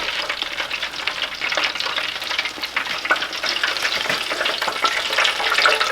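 Hot oil drips and sizzles off a freshly deep-fried turkey cooked over propane, a steady crackling fry that grows slightly louder toward the end, with no talking.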